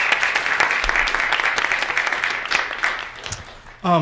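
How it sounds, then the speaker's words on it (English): Audience applause at an academic ethnography forum, a dense steady wash of clapping that fills the room and tapers slightly before a brief burst of louder sound at the end. "Let's give Rachel a round of applause"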